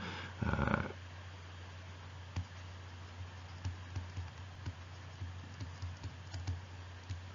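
Computer keyboard typing, a soft irregular patter of key clicks in short bursts over a steady low hum, close but quiet, preceded by a brief louder rustle, with no talk.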